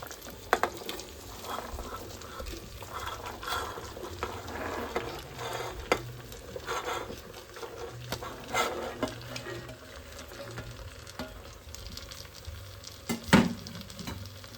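Mixed vegetables and potato stir-frying in a pan for veg pulao, giving a steady close sizzle with frequent scraping and clattering stir strokes throughout, and no voices.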